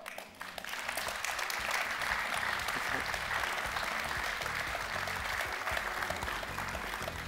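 An audience at a business debate claps to welcome an Amazon logistics manager to the stage, steady, moderately loud applause that swells quickly and stays even throughout.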